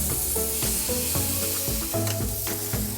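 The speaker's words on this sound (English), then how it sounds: "I'm gonna start by searing them on both sides." Pork chops searing in hot oil in a pan, a loud continuous sizzle close up, with tonal music-like layers running underneath and no talk.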